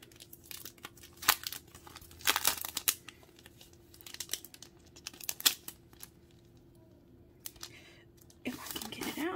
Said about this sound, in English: Let's start with this foil bundle that I have here.